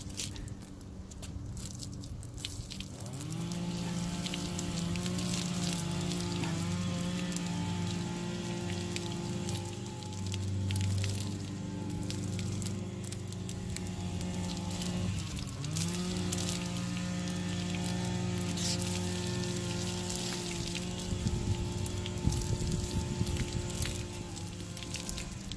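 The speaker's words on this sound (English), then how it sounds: "pour the hot water on the spot where the dent is" Hot water poured from a container onto a dented car body panel makes a continuous splashing, trickling stream, with a steady gurgling tone shifting as the pour moves around the dent.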